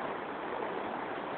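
A swollen floodwater river rushes past in a dense, even roar of flowing water, steady and close throughout with no breaks.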